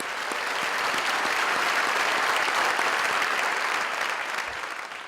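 A large audience at a State of the City address applauds city council members with a dense, continuous roar of clapping. The applause holds strong and fades slightly toward the end.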